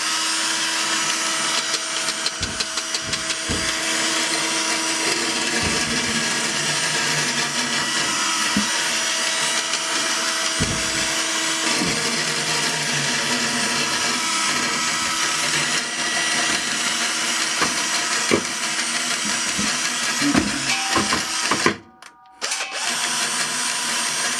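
USB 3.0 massage ball running continuously: a loud, steady mechanical whir and buzz with faint rattles and knocks from handling, then a brief stop near the end before it starts again.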